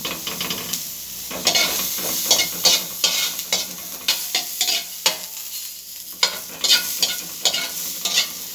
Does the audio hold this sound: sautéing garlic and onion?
yes